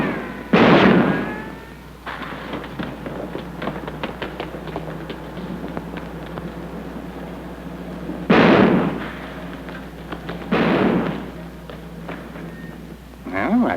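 Sharp gunshots ring out in an old film scene, a loud blast near the start and two more heavy bursts later, with dialogue and background sound in between.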